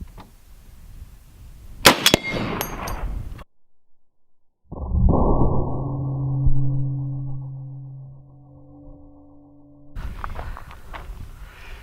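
A heavy sniper rifle fires armor-piercing incendiary tracer rounds at stainless steel, producing a sharp loud crack followed by a long ringing metallic resonance that fades over several seconds, with no talk.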